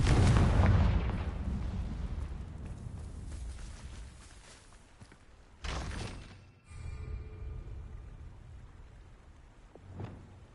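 A Confringo fire spell explodes in the Hogwarts Legacy video game, a loud rumbling blast that opens the clip and decays over several seconds, followed by a second sharp burst and a faint later crackle.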